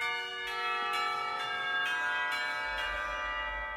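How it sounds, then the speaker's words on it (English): Several school warning bells chime from a visual novel, struck in a steady series of bright, ringing tones with long overlapping sustain, moderately loud and heard alone. "the warning bells chime through the window"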